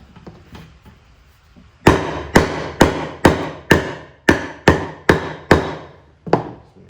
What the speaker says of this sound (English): we got to give it a few taps, break the bottom weld